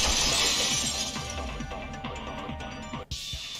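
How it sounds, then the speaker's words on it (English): Ceramic vase shattering in Danganronpa 2: Goodbye Despair, a loud sustained crash with scattering debris that fades, then a sharp cut to a brief new burst. "If it wasn't the window, then what broke to make that sound? A vase."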